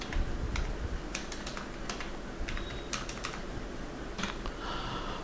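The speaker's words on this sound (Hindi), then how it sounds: "और आगे का डेटा मैं टाइप कर रहा हूँ।" Clicky, irregular bursts of typing on a computer keyboard while entering table data in MS Word, quick key taps in clusters with short pauses, close and fairly quiet with no speech.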